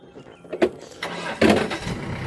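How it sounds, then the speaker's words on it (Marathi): A car engine cranks and turns over, catching with a louder surge, followed by a steady running hum. "चला आता आपण गाडी चालूया."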